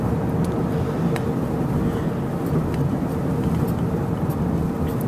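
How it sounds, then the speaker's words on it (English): A car drives along a road, its interior filled with a steady low engine and tire rumble and a few faint clicks, and no voices. "I'm just gonna keep driving"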